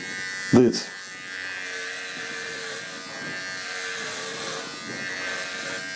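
A VGR V-082 electric hair trimmer hums with a steady, close mechanical buzz throughout, briefly broken near the start by a short louder knock.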